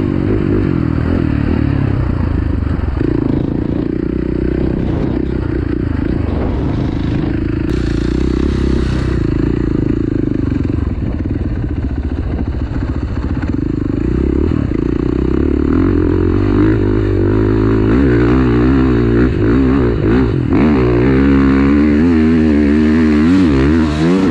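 Motorcycle fitted with a Road Skulls Straight Shooter exhaust climbing a hill, its loud engine droning continuously up close, rising and falling with throttle changes and shifting pitch, with some clatter and wind throughout.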